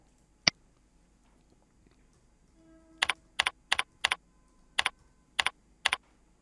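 Keys on a computer keyboard are tapped close up: one isolated click, then a quick burst of about nine crisp keystrokes as a short name is entered in quiet surroundings.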